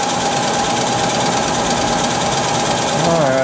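A PM-950V milling machine spindle runs at about 1,000 RPM, giving a steady, loud, close mechanical whir and hum that carries on without a break for the whole stretch.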